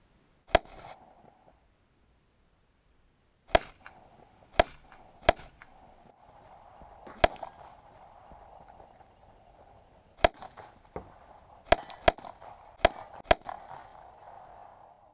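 Gunshots at a shooting practice range ring out as sharp, loud single cracks, irregularly spaced, with short pauses and a few quick pairs in between.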